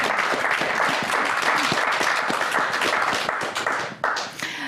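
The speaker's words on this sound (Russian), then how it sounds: "Аплодисменты для вас." An audience at an evening stage program applauds with dense, sustained clapping that thins and fades toward the end.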